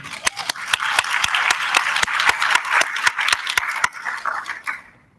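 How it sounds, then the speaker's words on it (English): Scattered clapping from a small audience greeting a presenter at a closing panel, sharp separate claps spaced in a loose rhythm over a bright wash of cheering, easing off and fading out near the end. "They're cheering, they're clapping for you."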